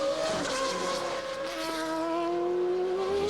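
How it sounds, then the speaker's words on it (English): GP2 race cars scream past at speed on a German circuit, loud continuous high-revving engine tones with rising and falling pitch as several cars flash by in quick succession. "And meanwhile, cars go flashing by."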